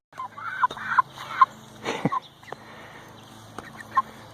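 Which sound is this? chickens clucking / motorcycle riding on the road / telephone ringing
chickens clucking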